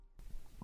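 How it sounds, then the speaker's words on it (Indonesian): A hungry stomach rumbling, a brief low gurgling growl that swells into a few quick bubbling pulses, close and quiet with no speech. "terdengar suara perut yang keroncongan"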